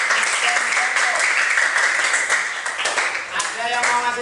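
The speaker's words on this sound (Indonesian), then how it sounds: "Tepuk tangan buat." A classroom audience breaks into sustained clapping after a student's electronics circuit presentation, loud and close, continuing steadily for several seconds with slight dips.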